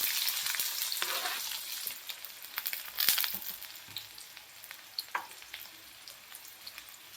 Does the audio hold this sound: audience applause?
no